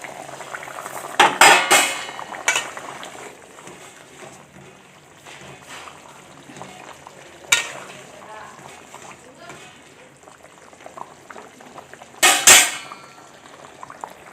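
A utensil clinks and scrapes against a pot of egg curry with potatoes during stirring, in a few sharp bursts over a quiet simmer, with a voice talking between them.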